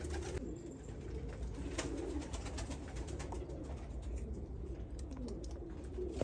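Pigeons coo steadily in a loft, including a young Arab-type bird for sale, their low throaty calls continuous and fairly close over a busy background with a few sharper clicks.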